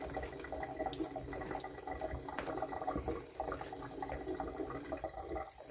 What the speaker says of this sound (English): So we're doing this slowly because You don't want too much water in the dumpling mix.